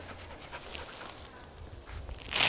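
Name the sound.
dog panting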